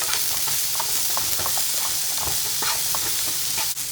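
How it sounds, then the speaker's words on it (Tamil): Onions salted in a pan sauté with a steady close sizzle, stirred by a utensil that adds repeated soft scrapes and taps, with no voices. "வெங்காயத்தை நல்லா வணக்கி விட்டுறலாம்"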